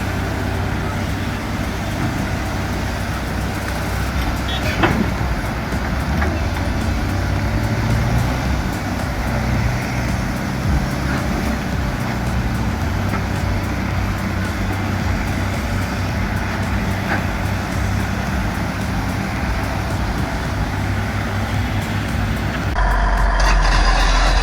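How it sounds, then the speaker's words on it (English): Diesel engines and hydraulics of an excavator and a Komatsu D375A-5 bulldozer (2009, 525 horsepower) working to reshape a seabed: a loud, steady low rumble with occasional clanks and strains, close and constant throughout. "No music here, just diesel, hydraulics, and perfectly timed power."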